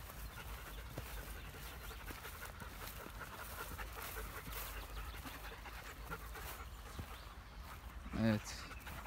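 Soft, rapid panting from a German Shepherd runs steadily under faint outdoor noise, with a brief louder whimper-like sound near the end.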